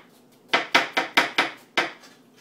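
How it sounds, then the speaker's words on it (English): A knife chops cucumbers on a cutting board for potato salad, six sharp, close chops in quick, slightly uneven rhythm over a quiet kitchen background. "I'm here chopping some cucumbers for our delicious potato salad."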